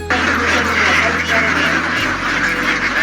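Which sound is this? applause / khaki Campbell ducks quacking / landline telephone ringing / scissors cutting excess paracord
khaki Campbell ducks quacking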